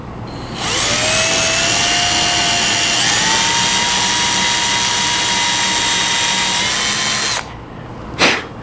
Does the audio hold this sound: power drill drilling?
yes